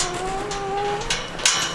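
A cow moos on a farm in winter, one drawn-out low call that slides in pitch, close and clear, followed by a couple of faint thuds.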